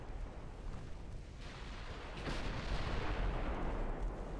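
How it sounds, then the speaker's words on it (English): A torpedo detonation in the naval video game Ultimate Admiral Dreadnoughts rumbles as a deep, broad blast that swells midway and holds as a loud roaring wash of noise. "Torpedo detonation."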